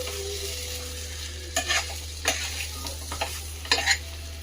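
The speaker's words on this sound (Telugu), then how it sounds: "ఉసిరికాయని ఇలా వేసేసుకొని కలుపుకోవాలి" Chopped amla being stirred into chutney in a hot pan, with a faint sizzle and a few sharp scraping strokes over a steady low background hum.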